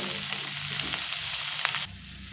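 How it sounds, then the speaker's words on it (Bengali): Roasted coconut sizzles steadily with spices in a hot pan, a continuous close frying hiss with light stirring scrapes, dropping suddenly quieter near the end. "এবার এখানে দিয়ে দেব পোড়ানো নারকেল দিয়ে আবারও এক থেকে দু মিনিট একটু মশলার সঙ্গে কষিয়ে নেবো"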